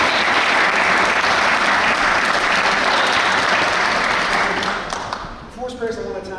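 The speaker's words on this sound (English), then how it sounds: "So give yourselves a round of applause, please." A book launch audience in Dublin applauds with loud, dense clapping that holds steady, then thins and fades near the end as a voice begins to speak.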